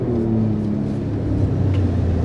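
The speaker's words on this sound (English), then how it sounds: "want to hear that exhaust." Exhaust of a 2019 Shelby Ford Raptor pickup, a steady low droning rumble at idle or light throttle, close and continuous with no talking.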